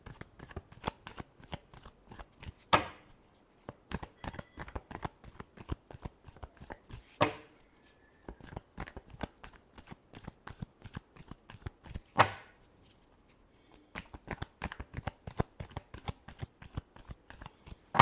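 Tarot cards are shuffled over and over in quick, dry riffling flicks. The cards patter close by in an even rhythm, broken by a few sharper slaps where the deck is squared, with no talk.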